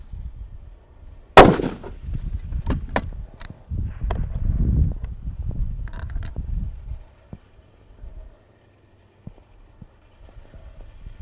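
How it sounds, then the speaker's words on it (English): A single sharp, loud crack of a 7mm rifle fired during F-Class shooting at 800 yards, followed by scattered clicks and handling knocks, then near quiet. "Very nice shot, Shiraz, just slightly low."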